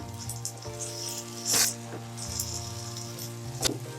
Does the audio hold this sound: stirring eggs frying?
yes